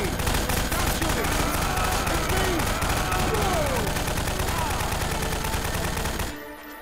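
Dense, continuous gunfire from a Half-Life 2 mod video game, rapid overlapping shots filling the scene loud and close for several seconds before cutting off near the end.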